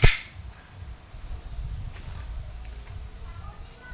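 An E&C Glock 19X gas airsoft pistol fires a single sharp, close report at the very start, followed by quiet handling noise.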